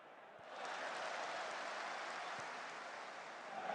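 Crowd applause in the football video game Football Manager 2023, a steady even clatter of clapping that swells in after a quiet start and holds at moderate loudness, with no voices.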